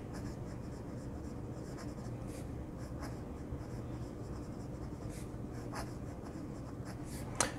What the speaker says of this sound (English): Do a quick writing sample.